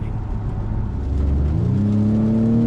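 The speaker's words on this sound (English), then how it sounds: "You put it in sport mode and you gun it, it goes." A 2021 Acura TLX in sport mode accelerates hard, the engine note climbing steadily in pitch as revs rise. It sounds loud and close, a smooth rising drone with no talking.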